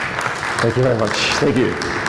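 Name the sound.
audience applause at conference talk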